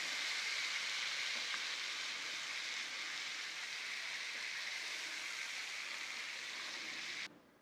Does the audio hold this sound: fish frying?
yes